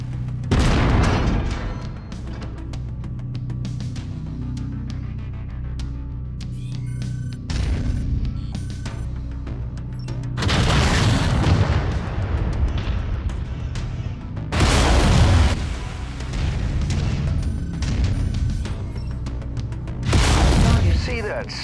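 Mech weapons fire and explosions in the video game MechWarrior 5: heavy booming blasts and crashing impacts recur every few seconds over a steady low engine rumble, loud and close, with a voice talking throughout.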